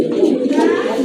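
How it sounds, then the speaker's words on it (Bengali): Male pigeon cooing loudly and close by, a steady throaty coo running through the whole second, among pigeons offered for sale. "নরে কিন્তু অনেক ভালো ডাকে, একা একাই ডাকতেছে"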